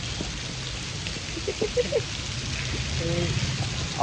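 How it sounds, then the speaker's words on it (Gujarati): A steady hiss of rain runs throughout, with faint voices and brief clinking sounds nearby. "એક ધારો કેટલા કલાકથી વરસાદ આવે છે"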